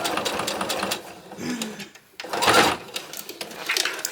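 A sewing machine stitches across a Chelsea bag in close, loud whirring runs, pausing briefly midway before the motor starts up again and continues stitching.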